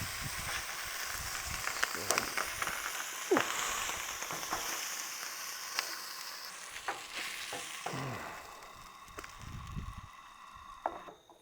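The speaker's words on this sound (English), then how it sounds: "I'm gonna take it off the cedar plank and just sear it." Food searing in a hot pan at a campsite after being smoked on a cedar plank, a continuous sizzle with occasional sharp pops and scraping stirs, close and fairly quiet.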